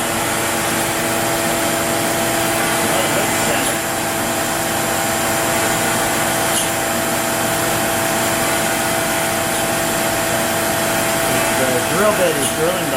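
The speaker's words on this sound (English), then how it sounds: "The drill bit is drilling the holes in the center" A OneFinity CNC machine drills holes into a watch band template, a loud, steady whirring whine with a constant tonal hum that runs without pause.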